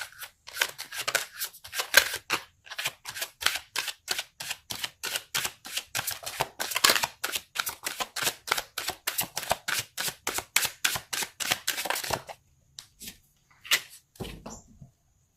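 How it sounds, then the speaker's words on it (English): A tarot card deck is handled with a fast, even run of crisp card clicks for about twelve seconds, then a few scattered taps before it goes quiet. "Let's pull a card for your emotional space."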